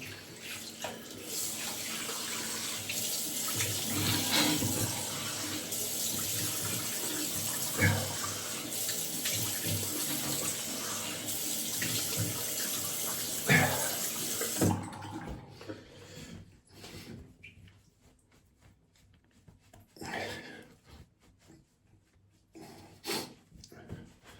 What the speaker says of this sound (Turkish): Şimdi yüzümü yine yıkıyorum.